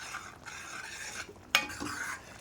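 Tamarind curry with okra bubbling in a pan gives a soft, faint simmering hiss, broken once by a brief sharp clink of a utensil against the pan.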